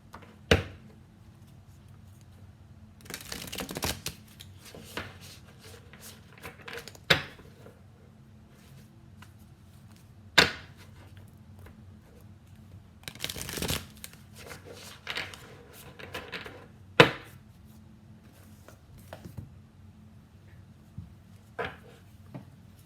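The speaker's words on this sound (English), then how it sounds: "Give them a shuffle." A deck of tarot-style cards being shuffled and cut by hand, close and quiet, with repeated short riffling bursts and soft taps spread across the clip, almost no talk.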